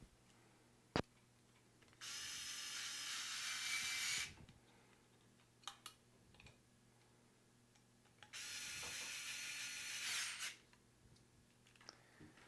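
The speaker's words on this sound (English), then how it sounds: "I'm going to go ahead and tighten my two 3mm hex screws that secure the motor plate to the motor" An electric screwdriver drives two 3mm hex screws into a conical grinder's motor plate, giving two separate whirring runs of about two seconds each, close but quiet, with faint clicks and handling noises between them.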